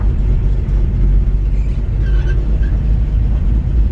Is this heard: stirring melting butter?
no